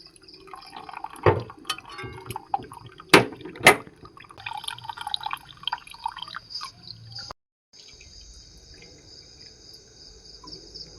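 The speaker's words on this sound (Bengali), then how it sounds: "জল দিয়ে ছানাটাকে আমি ধুয়ে নিলাম।" Fresh chhena being rinsed with water, with trickling and dripping sounds and a few sharp splashes, then a quieter stretch after a short silence, with a persistent high insect-like chirp in the background.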